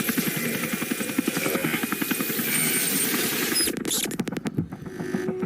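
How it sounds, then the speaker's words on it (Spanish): Helicopter flying in the video game RoboCop: Rogue City, a loud, steady thudding rotor beat that shifts and breaks into sharper, choppier pulses toward the end. "se lo llevan en helicóptero"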